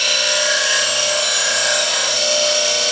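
Bench grinder running steadily while sharpening a woodturning lathe scraper to raise a burr, a loud continuous high whine with faint grinding contact, alone without talk.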